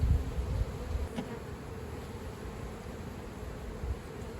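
Honey bees buzz around an open hive in a dense, steady drone that fills the air close by, with no talk over it.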